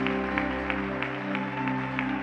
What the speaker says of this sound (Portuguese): aplauda lindamente o nome do Senhor